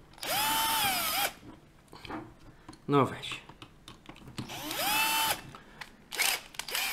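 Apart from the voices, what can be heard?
power screwdriver unscrewing Nivona coffee machine brewing unit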